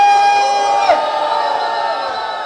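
A crowd at a rap battle at a street cultural circle in Rocinha cheers and whoops loudly, a sustained roar of voices with a brief shout rising partway through.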